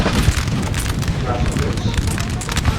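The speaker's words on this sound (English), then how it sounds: "now I finally managed to bring up my reserve rifles, whom I forgot, and now we're getting to fire" British rifles in Napoleon Total War fire a volley, a loud burst of booming gunshots and rumbling blasts layered densely over one another, with someone talking over the gunfire.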